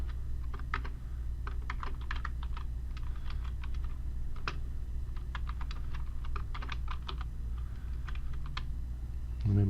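Rapid typing on a computer keyboard comes in irregular bursts of close, crisp key clicks over a low steady hum while a name is entered during a Linux Mint 18 MATE install in VirtualBox.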